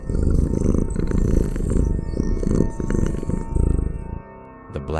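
A black cat gives a low, rumbling purr-like growl that runs steadily and fairly loud for about four seconds, then breaks off, with a short sharp burst right at the end.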